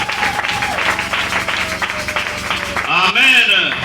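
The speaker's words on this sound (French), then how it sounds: "Acclamons le Seigneur Jésus." A church congregation claps and cheers in acclamation of the Lord Jesus, a dense burst of rapid applause under a preacher's amplified voice, ending with a rising shout.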